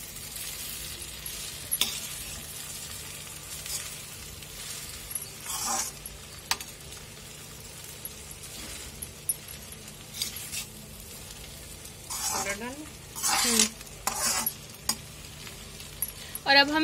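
Singapuri chow mein being stir-fried in a pan over low gas, with a steady soft sizzle and occasional louder bursts of stirring and utensil scrapes against the pan, no talking.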